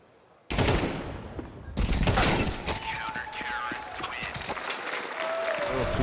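Tec-9 pistol fire in a professional Counter-Strike match between The MongolZ and Team Liquid, with rapid bursts of shots and game effects mixed under continuous excited commentary.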